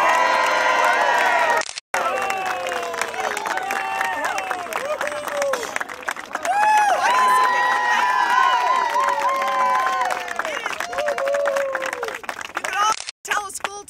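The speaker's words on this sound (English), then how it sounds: "let's give a round of applause for our next U.S. Senator, Elizabeth Warren" Crowd at a campaign event for U.S. Senate candidate Elizabeth Warren at an orchard in Methuen applauds and cheers loudly and steadily, with shouts and whoops rising over the clapping for most of the stretch.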